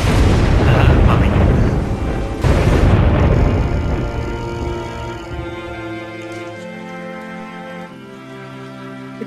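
Several loud booming gunshots from The Walking Dead video game, the blasts ringing out over the first few seconds with background game music and ambience continuing as they fade.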